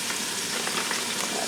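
Chunks of roast beef browning a few at a time in an Instant Pot, giving a dense, steady sizzle with small crackles that stays close and loud throughout, with no voices.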